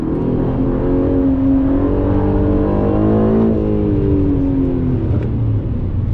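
An Aston Martin sports car accelerates hard, its engine revving loudly and close with a rising pitch, easing briefly midway and then climbing again.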